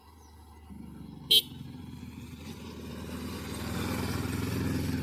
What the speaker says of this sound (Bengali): ইন্ডিয়ার একটি বাইক আসতেছে